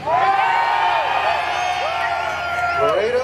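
A San Antonio crowd at a live Halloween event cheers and whoops loudly and steadily, with voices rising in sustained high yells throughout.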